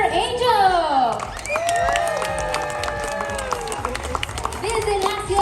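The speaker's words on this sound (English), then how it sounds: "Everybody clap for Mila." Resort show audience clapping for a young girl named Mila at a family resort in Tulum, a scattered round of applause under a loud announcer's voice and music-like tones.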